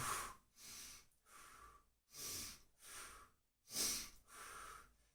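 Heavy, forceful breaths during an exercise hold come close to the mic, about six strong exhales in a steady rhythm with short quiet pauses between them.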